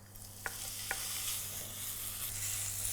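Seasoned beef strips hit a hot pan for a stir fry and sizzle steadily with a bright hissing wash, topped by a couple of faint clinks early on, with no talk.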